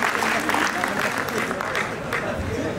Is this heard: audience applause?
yes